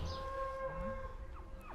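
Cattle low repeatedly in a farm paddock, several drawn-out moos overlapping at close to middle distance over steady outdoor background noise, with no talk.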